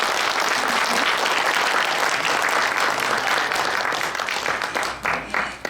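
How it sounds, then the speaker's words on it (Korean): An audience at a book talk and lecture event claps loudly and steadily, a dense wash of applause that gradually thins and fades toward the end. "큰 박수 부탁드립니다."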